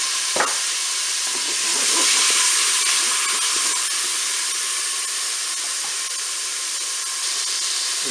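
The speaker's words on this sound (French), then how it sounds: "je vais faire revenir les oignons" Onions frying in melted butter in a Cookeo multicooker, a steady bright sizzle and hiss that holds close and loud throughout, with a few faint clinks of stirring.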